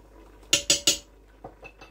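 Metal spoon stirring white pepper into a sweetcorn chowder in a pot, three quick close clinks against the pot side followed by a couple of fainter taps.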